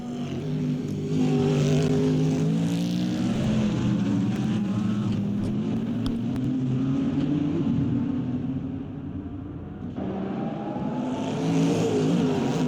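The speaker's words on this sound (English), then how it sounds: "here comes the Lexus still trailing right behind the Corvette" GT race cars, a Lexus and a Corvette, roar past on the Bahrain circuit, engines rising and falling in pitch as they accelerate close together, loud and continuous with a brief dip before surging again.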